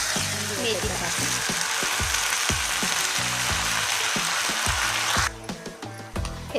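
Fenugreek leaves fry in a pan with green peas, turmeric and red chilli powder, giving a loud, steady sizzle that runs throughout, with rhythmic low tonal sounds like music underneath and a drop in the hiss near the end.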